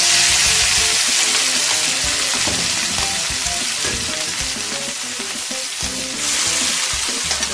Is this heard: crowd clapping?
no